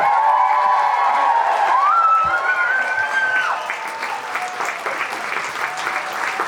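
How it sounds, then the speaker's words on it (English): Variety show audience applauding and cheering for the performers, loud sustained clapping with a few whoops, a bright tonal line from a voice or instrument gliding over the crowd. "let's give them one big more round of applause"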